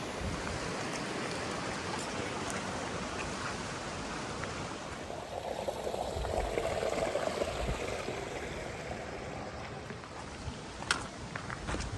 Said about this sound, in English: All right, we got a water crossing here.